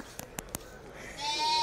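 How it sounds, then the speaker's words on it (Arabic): Sheep bleat loudly at a livestock market in Hassi Bahbah, Djelfa, the last call drawn out, after three sharp clacks at the start. "هذو كاع خرفان، ما كاش اللي مبدل"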